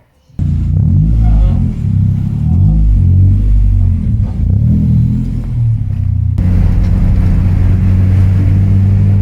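A Honda Civic with an H22 engine and a freshly installed clutch starts up and runs loud and close, holding a steady, rough idle, then rises in a swell of revving toward the end.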